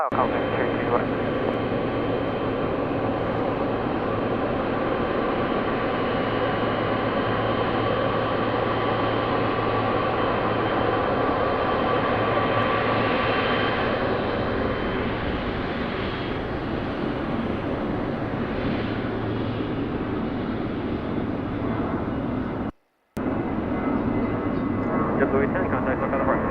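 Jet airliners at LAX airport make a steady, broad engine roar that swells and holds, heard from a distance, with air traffic radio talk faintly underneath.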